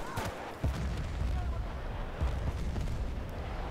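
Semi-guided missile launches and explosions in Battlefield Bad Company 2 sound as deep, booming blasts and rumbling bursts of gunfire that recur through a dense game-battle din, with no voices.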